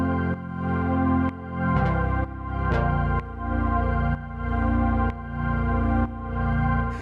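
A Juno-style polyphonic synth part played on a Jun-6 V, with sustained chords changing roughly every second in a steady, full, even rhythm, loud and close with no talking.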